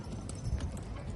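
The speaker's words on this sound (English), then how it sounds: "It's by a narrow margin, and Lester Speck has a good team of horses." Horses' hooves clip-clop in a quick, muffled patter at a county fair lightweight horse pull, under a busy crowd and announcer's talk.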